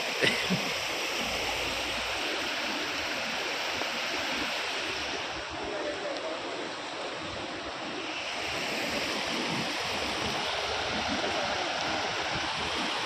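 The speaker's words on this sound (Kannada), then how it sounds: "ಹರಿಯೋದು ನೋಡಿ ನೀರು ಎಂತ ಸ್ಪೀಡ್ ಹರಿತಾವ" Floodwater rushes fast during heavy rain in Ballari, a dense continuous roar of flowing water with wind buffeting the microphone, steady and loud throughout, and no clear voices.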